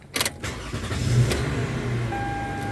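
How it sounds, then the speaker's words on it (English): A 2014 Toyota Sienna minivan engine starts: a brief starter crank, then a steady idle settling in close by, with a faint electronic tone near the end. "You can actually start the car"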